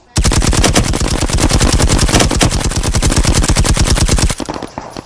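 Rapid automatic gunfire from the VR shooter Firewall Zero Hour, a loud sustained burst of evenly spaced shots lasting about four seconds before cutting off.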